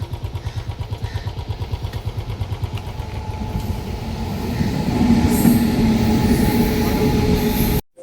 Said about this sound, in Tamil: ட்ரெயின் கிராஸ் ஆனதுக்கப்புறம் ஜேர்னியை கண்டினியூ பண்ணோம்